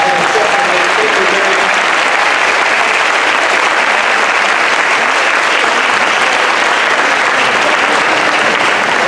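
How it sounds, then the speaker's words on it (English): Sustained, loud clapping from a school audience at a grade 3 musical, an even wash of many hands continuing throughout, with a faint voice briefly heard at the start. "let's give Miss Layton a very big round of applause for all her efforts."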